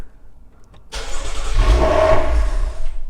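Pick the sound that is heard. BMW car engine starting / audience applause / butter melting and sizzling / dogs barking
BMW car engine starting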